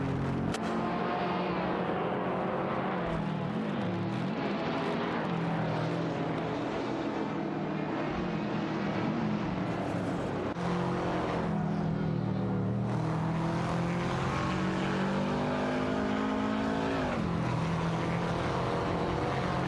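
Computer-controlled race cars lapping a track in a racing video game, with dense, continuous engine drone and shifting revving pitch throughout, loud and steady with no voices.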